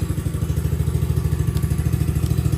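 A brand-new X-Pro X15 110cc dirt bike engine just started, running steadily up close with a dense, rapid low putter and an even, unbroken rhythm.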